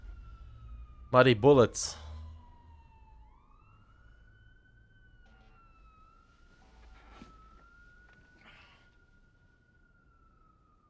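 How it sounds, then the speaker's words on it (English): Police sirens wail in a scene from The Sopranos, a steady, fairly faint rising and falling tone that carries on at a distance behind a brief burst of loud dialogue and other scattered sounds. "Maybe those sirens are going to the scene of the crime"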